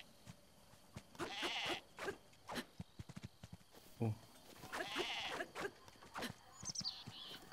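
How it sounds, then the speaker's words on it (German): Sheep bleat in The Legend of Zelda: Breath of the Wild, giving several short, wavering calls spread across the clip over soft game ambience, with a brief spoken exclamation near the start. "Hier ist eine Kuh und hier sind Schafe."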